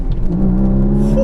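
Porsche Cayman GTS with a six-cylinder engine of 340 horsepower accelerating, a steady, loud engine drone with harmonic layers rising slightly in pitch, heard up close from inside the car.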